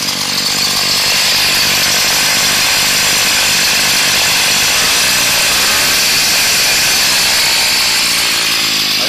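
A small engine idles steadily right after being repaired, a continuous loud buzzing drone with a raspy, saw-like edge that holds evenly throughout with no talking.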